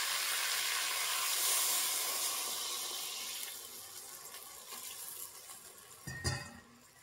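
Water pours into spices sizzling in a pan for a village-style fish and gandal leaf curry, starting as a loud, steady hissing rush that gradually fades, with a brief knock near the end.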